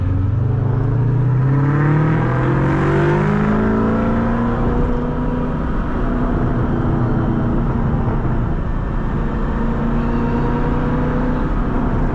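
A 504 hp Ford Mustang Cobra Terminator with full bolt-ons, headers and aftermarket exhaust drones loudly from close range, its engine note rising and falling through gears in a continuous rumble.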